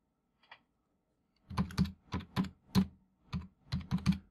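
Someone types on a computer keyboard, close and clear, with one isolated keypress followed by a run of key clicks in uneven short bursts.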